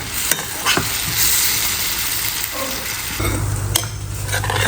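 Steady sizzling of onion, tomato, garlic and ginger in a pan with occasional metal spoon scrapes and clinks as they are stirred; constant hiss throughout, one louder low rumble partway.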